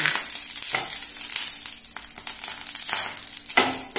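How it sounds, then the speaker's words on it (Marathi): Oil and a splash of water sizzle steadily in a hot pan while chicken fry is being made, a close, continuous crackling hiss that swells and flares in bursts, with stirring scrapes and no talking. "आतां पॅन तापलें, भितर तेल घालुया, मातशें उदक घातलें"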